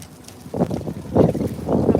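Gusts of wind in Central Park, New York City, buffet the microphone in rumbling bursts that rise and fall over a couple of seconds.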